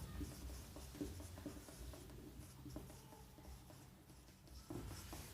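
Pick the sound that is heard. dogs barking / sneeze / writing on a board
writing on a board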